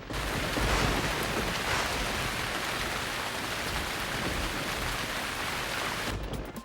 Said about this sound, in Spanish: la lluvia ácida.